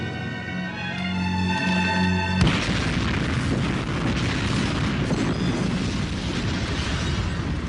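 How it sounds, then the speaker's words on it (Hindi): A movie bomb explosion erupts as a sudden loud boom after a stretch of music, then rolls on as sustained rumbling, crackling debris noise for several seconds, with no talk. "यहाँ बम फटने वाला है।"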